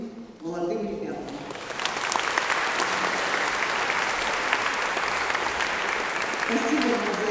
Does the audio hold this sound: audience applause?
yes